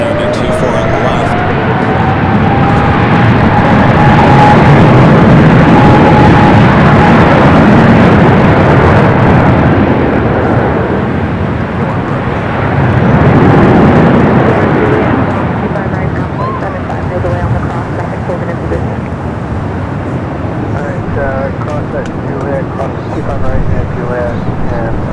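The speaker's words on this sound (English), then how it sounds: "We got the 777 and now starting to roll down to 24 on the left." A Boeing 777 rolling down runway 24 left at LAX, a broad distant jet roar that rises and falls under wind noise, with a voice talking intermittently over it.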